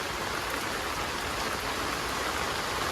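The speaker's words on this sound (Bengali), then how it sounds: "ভালো বৃষ্টি হইতেছে, একটা না একেবারে 4-5 দিন ভালো বৃষ্টি হইতেছে" Heavy monsoon rain pours steadily on a village hut, a dense, loud, unbroken hiss of drops with no voices.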